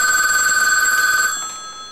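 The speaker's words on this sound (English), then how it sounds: "Answer the phone in the kitchen." A telephone bell rings loud and close in a home, its steady metallic trill running for over a second before cutting off and fading away, with no talk over it.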